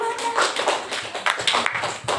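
Classroom applause for a group of fifth-grade students: a short burst of uneven clapping from a small group, with taps and hand claps scattered across the room.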